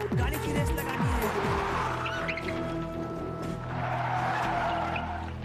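Car tires squeal and skid in quick sweeping bursts near the start during a road race, followed by sustained engine and road noise with a smeared skid later on.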